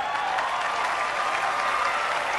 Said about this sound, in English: Why are these guys even clapping?